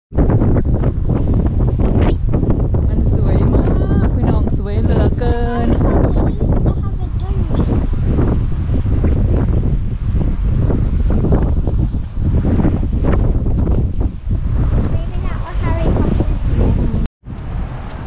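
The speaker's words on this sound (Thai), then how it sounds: "ได้ยินแต่เสียงลม" Strong wind gusts at Bamburgh Castle buffet the microphone with loud, continuous roaring and rumbling that lasts almost throughout, with voices faintly present beneath it.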